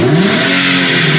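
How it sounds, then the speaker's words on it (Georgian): An Infiniti G35 Coupe's 3.5-litre VQ35 naturally aspirated V6 revs loudly and close through its aftermarket mufflers, a steady throaty engine roar with no talking. "ეს ის მაყუჩებია, რომლების დამსახურებითაც აქ ძალიან მაგარი ხმა"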